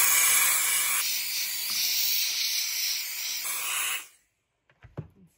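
A Bissell Power Steamer with an angled attachment blasts a loud, steady hiss of steam while cleaning a greasy surface, holding for about four seconds before cutting off into a few faint handling knocks.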